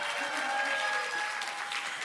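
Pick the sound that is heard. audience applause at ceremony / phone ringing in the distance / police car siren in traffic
audience applause at ceremony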